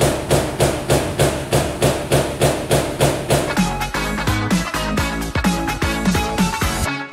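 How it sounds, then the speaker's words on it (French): A CNC punching machine works sheet metal, first with a steady fast series of regular punching thuds, then shifting to sharper, irregular clanks and metallic hits with a continuous mechanical drone underneath, loud and close. "la machine sélectionne ses outils, vient palper la tôle et ensuite commence à palper"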